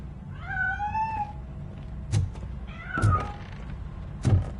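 In the video game RoboCop Rogue City, a cat gives a long rising meow, then two more shorter meows, close and clear, interspersed with three dull thunks and knocks as it escapes.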